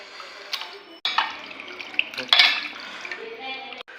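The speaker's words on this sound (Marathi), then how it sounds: "तर मस्तपैकी चिकन धुवून घेऊ मित्रांनो" Raw chicken is washed in water, with splashing, dripping and clattering in a pot or sink, quiet and close, coming in short bursts over a few seconds.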